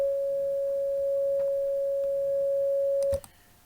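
A steady FL Studio 3xOsc synth sine tone holds loud and unbroken for about three seconds as it pans between left and right, then cuts off abruptly with a brief click and falls silent.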